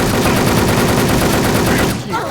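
Rapid automatic gunfire from a multiplayer shooter video game, a dense loud burst of shots lasting about two seconds before cutting off abruptly, with no talking.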